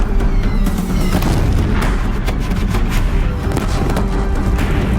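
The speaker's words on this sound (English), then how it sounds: "If the Deathbringers keep firing, this bridge will go." Deathbringer war machines in Horizon Zero Dawn pound away with continuous loud artillery fire, heavy booms and crashes layered into a dense, roaring battle din with no pauses.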